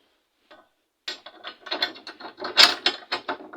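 A wrench tightening a screw in a screw lock, producing a series of quick ratcheting metal clicks in uneven bursts after a brief tap, close and fairly loud.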